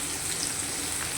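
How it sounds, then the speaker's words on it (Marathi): Chopped onion dropped into hot oil with asafoetida for a green bean and potato bhaji, giving a steady, soft broadband sizzle and hiss that holds evenly throughout, fairly quiet and with no voices. "आणि आता आपण कट केलेला हा कांदा टाकून घेऊया आणि कांद्याला मस्त असा गोल्डन कलर वरती परतून घ्यायचा।"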